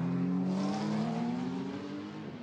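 Race cars overtake at the Spa-Francorchamps 6 Hours endurance race, engines droning loud and close with a rising whine as one pulls past, then easing slightly in volume.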